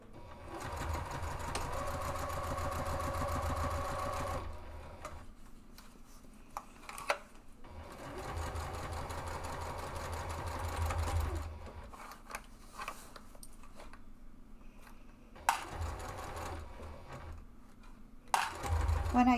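A sewing machine back stitches fabric and then sews slowly in a U shape, running in three steady whirring bursts separated by short quiet pauses with faint handling clicks.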